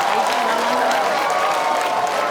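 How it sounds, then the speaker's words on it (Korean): An outdoor crowd at a ginseng festival concert claps warmly for a singer coming on stage, a dense and steady ovation that continues without a break. "여러분 뜨거운 박수 부탁드립니다."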